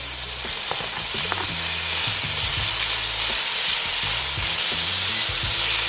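Sausage sizzling loudly in a pan with fried cabbage, a dense continuous hiss with scattered low scraping and stirring knocks throughout.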